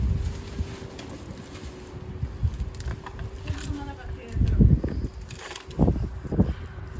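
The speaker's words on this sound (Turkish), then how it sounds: "Burada güneşli ama rüzgarlı bir hava var." Wind rumbles and buffets the microphone in uneven gusts on a sunny day in a vineyard during grapevine pruning, growing heavier toward the end, with a voice talking faintly underneath.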